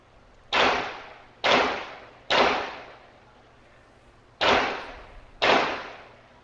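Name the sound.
gunshots recorded by doorbell camera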